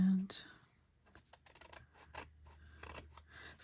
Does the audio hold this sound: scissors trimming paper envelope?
yes